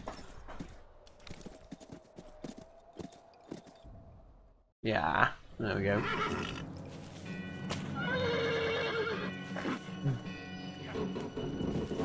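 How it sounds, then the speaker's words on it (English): A horse in the Western video game Call of Juarez: rhythmic hoof clip-clops, then a loud neigh with galloping and game noise, and a player's voice talks briefly over it. "Or the horse. Probably the horse."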